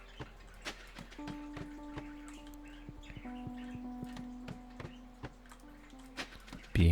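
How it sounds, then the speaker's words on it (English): Birds warble and chirp softly in the Stardew Valley farm game, with scattered short calls over a quiet background of sustained tones. "Do you guys hear the birds?"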